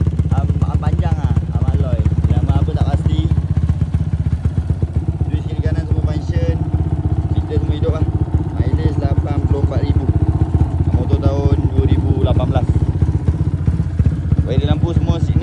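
A tuned motorcycle with an alloy radiator and a 68 jet revs and idles close by, a loud continuous engine drone with a steady low throb throughout.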